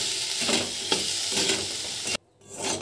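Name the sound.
neem leaves stir-fried with fried eggplant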